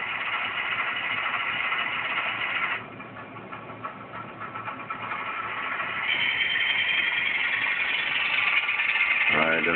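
Sound decoder in a model BNSF SD70MAC diesel locomotive plays its prime mover, a loud steady engine drone that drops in level, then swells and rises in pitch as the engine setting changes.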